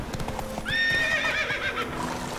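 Horse from The Witcher 3 video game gives a loud, clear neigh with a falling whinny, over steady clip-clop hoofbeats of galloping throughout.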